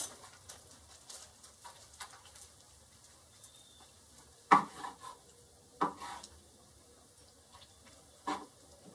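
A Dale Strong knife slices through cooked brisket, giving a few sharp, scattered cuts and taps on a board, with quieter scraping between them. The sounds are close but faint overall.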